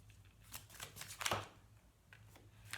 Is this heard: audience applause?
no